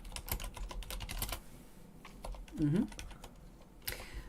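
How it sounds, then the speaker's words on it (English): Computer keyboard typing during a live online quiz stream comes as quick clusters of close clicks in the first second and a half, then scattered keystrokes with a voice murmuring faintly underneath. "I'm going to turn the microphone off so you can't hear the typing"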